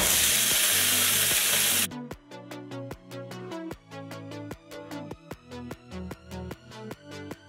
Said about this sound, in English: next we're going to start the stir fry with some stew meat